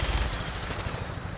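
Automatic gunfire in Fallout 4 crackles in a fast, dense burst, loud and close at first and continuing steadily with no speech.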